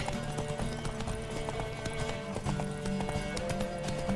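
A horse gallops through a race in The Witcher 3: Wild Hunt, its hooves pounding in a fast, even clip-clop beneath a layer of game music, with only faint hints of voices.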